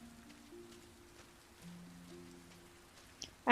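Soft, steady rain patters faintly throughout a scene in the video game Sky: Children of the Light, alongside a few quiet sustained tones, ending in a sudden louder burst of sound.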